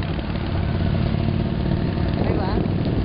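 Motorcycle engine droning at a roundabout in Barcelona, a steady mid-pitched hum with slight revving, heard from a moving vehicle amid background road noise.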